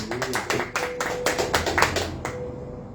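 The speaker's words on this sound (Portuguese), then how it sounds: "Aplauda o Senhor." A church congregation breaks into brisk, dense clapping at close range, which stops abruptly near the end.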